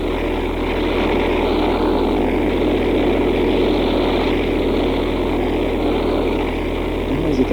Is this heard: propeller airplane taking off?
yes